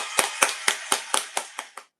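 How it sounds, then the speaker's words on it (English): Podcast hosts clap their hands about eight times in a quick, steady rhythm, each clap crisp and close, with the claps fading slightly toward the end before stopping. "Hopefully y'all can hear our claps on that side."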